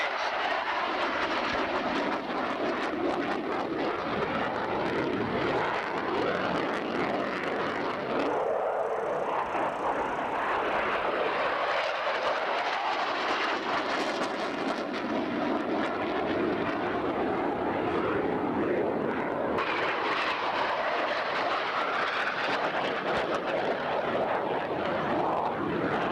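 A military airplane flying a hard jink maneuver at a 1990 airshow at Selfridge: a loud, sustained engine roar that rises and falls in pitch as it passes overhead, continuous for the whole stretch.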